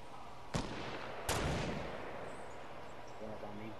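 Gunfire in the Fortnite video game: two sharp, separate shots about three quarters of a second apart over a low, steady game ambience, each quickly decaying.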